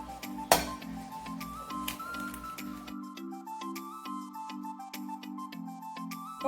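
A whisk beats two eggs and a cup of sugar in a bowl, giving a steady run of quick, bright metallic clinks and ticks at close range, with no talk.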